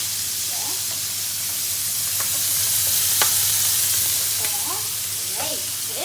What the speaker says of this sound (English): Now we've got to wait for 2 minutes to cook the scallops